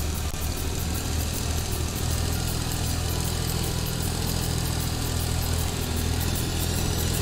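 Swaraj 855 tractor engine in Farming Simulator 22, driven in high gear at speed, a loud constant drone with a steady rhythmic chug, close and unbroken.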